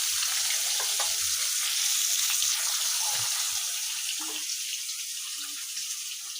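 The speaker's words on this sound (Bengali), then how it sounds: "এই যে মাছ ভাজা কমপ্লিট" Fish fries in hot oil in a home kitchen with a steady, close hiss and sizzle that eases off a little toward the end, accompanied by occasional soft clicks and no speech.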